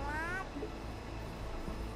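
A cartoonish cat meows in the video game A Hat in Time, one rising meow near the start over a steady game music bed.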